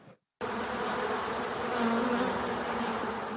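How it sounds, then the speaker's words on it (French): Honeybees buzz steadily around beehives at an apiary with about 150 hives in Le Haillan, Gironde, a dense continuous hum close by, preceded by a brief moment of silence. "Ça bourdonne en Gironde, du côté du Haillan, où Juan González s'occupe de ses 150 ruches"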